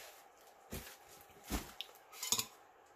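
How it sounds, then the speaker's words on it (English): Tape peeled in a few short rips from a glitter-coated tumbler, three distinct tearing bursts spaced about a second apart, close and fairly quiet with no talk. "We are going to take off the tape."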